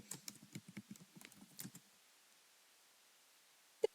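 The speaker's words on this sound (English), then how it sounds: "So now I'm typing my password." Quick, light keystrokes tap out a password on a computer keyboard in a rapid close burst of about a dozen clicks, followed by quiet and one final sharper key press, like Enter.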